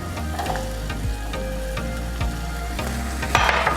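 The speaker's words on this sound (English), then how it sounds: "I'm going to cook my zucchini till it starts to brown just a little" Zucchini sizzles in a frying pan with softened onions and a little salt, giving a steady close frying hiss with occasional clatters of stirring.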